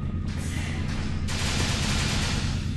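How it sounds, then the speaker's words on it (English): Dense, continuous gunfire and explosions in a Star Trek Online battle, a loud, unbroken barrage of rapid shots and booms filling the whole stretch with no speech. "Those explosions!"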